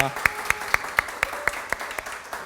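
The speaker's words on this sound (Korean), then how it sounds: "우리 큰 박수로 환영하겠습니다" A church congregation claps in steady unison to welcome visiting guests at a Sunday worship service, sharp even beats about four per second under a faint murmur.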